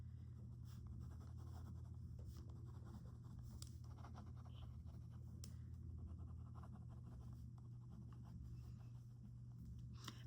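A pen scratching out notes on paper, soft intermittent strokes over a steady low room hum, close and quiet.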